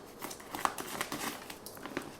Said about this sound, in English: So let's cut this bag